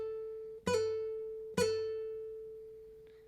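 Single guitar notes ring out in a quiet room: a sustained tone, then two sharp plucked attacks about a second apart, each a quick grace note from above into a target note that rings and slowly decays, with a faint touch near the end.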